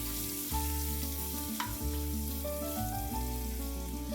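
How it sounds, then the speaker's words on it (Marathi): A tablespoon of thick ginger garlic paste sizzles in hot oil for suran bhaji, giving a steady, close frying hiss with no voices. "आपण ह्यात घालूया 1 टेबलस्पून आलं लसूण ची पेस्ट. थोडीशी जाडसर आहे. थोडीशी परतून घेऊया"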